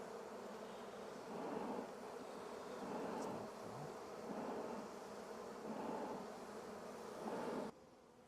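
Honey bees buzz steadily around an open hive during an inspection, a dense, continuous drone with gentle swells in loudness that drops off abruptly at the end.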